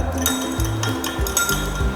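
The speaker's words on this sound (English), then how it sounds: "Now we are using glass rod to stir the water." A glass rod stirs soil and water in a laboratory beaker, producing steady close clinks and scraping taps against the glass over a low background hum.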